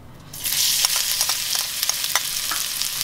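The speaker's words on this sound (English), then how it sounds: "first I'm gonna put about 1 tablespoon my garlic oil. Okay, about 1 tablespoon. Wait until the oil a little bit hot. And first we're gonna add our paste." Curry paste hits about a tablespoon of hot garlic oil for Thai tapioca pork dumplings, setting off a steady, close, bright sizzle. Soft stirring scrapes and taps break through the frying now and then.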